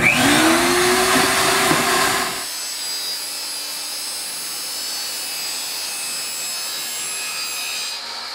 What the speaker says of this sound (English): We're going to use a chop saw here in our shop